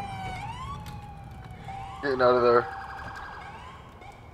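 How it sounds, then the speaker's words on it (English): A wailing ambulance siren in Grand Theft Auto IV sweeps up and down nearby, with a louder burst of blaring tones in the middle, as someone talks briefly over it. "Oh, ambulance is here!"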